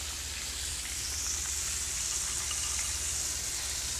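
Oysters frying in a cast iron skillet, a steady close hiss and crackle of hot oil that stays even and continuous throughout.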